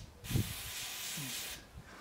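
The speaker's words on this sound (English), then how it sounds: "while it's still hot, I like to hit it with some kind of light oil" Light oil sprayed onto a hot stainless bolt seated in an aluminum KTM 300EXC engine case, one close steady hiss lasting about a second and a half after a short clunk.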